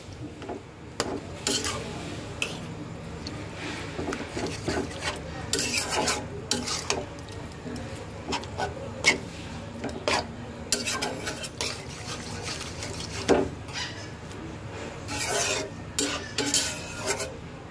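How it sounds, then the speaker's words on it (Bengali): A spoon stirs a curry of fish with bottle gourd greens in a pan, producing repeated scraping and clinking strokes in an uneven rhythm over a soft background sizzle, close and fairly clear. "ভালো করে একটু নেড়ে দেব।"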